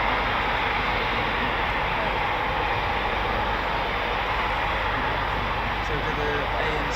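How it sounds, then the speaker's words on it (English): A Eurofighter Typhoon FGR4 fighter jet engine at the RAF Coningsby QRA station gives a loud, steady broadband roar that holds unbroken for the whole stretch, with no pauses or changes in intensity. "It is indeed the world's most powerful fighter jet engine"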